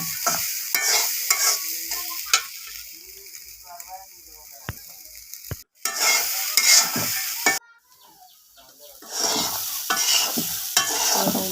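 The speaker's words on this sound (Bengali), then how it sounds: "হলুদ লবণ একদম ডালের সাথে নেড়ে করে মিক্স করে নিলাম।" Lentils fry with turmeric and salt in a pan for a drumstick dal, loud sizzling and repeated scraping stirs that pause twice, leaving brief near-silent gaps before the frying resumes.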